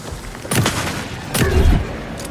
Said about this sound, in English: I might as well just use the shotgun here